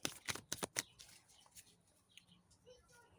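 Tarot cards are drawn from a deck: several quick crisp card snaps near the start, then softer scattered slides and taps in a quiet room.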